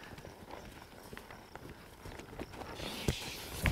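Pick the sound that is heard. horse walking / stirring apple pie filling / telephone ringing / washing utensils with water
horse walking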